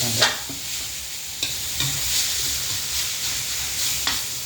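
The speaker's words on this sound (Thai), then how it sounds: "รวนหมูก่อนนะครับรวนหมูให้สุก" Pork being stir-fried in a pan for a dry-style Thai basil dish, with a steady sizzle and several distinct spatula scrapes and clacks spaced across the few seconds, close by and without talk.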